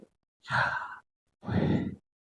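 A voice imitates slow breathing to suggest how the divine name YHWH once sounded: two long, soft breath sounds, an inhale and an exhale, separated by a short pause, close and fairly quiet.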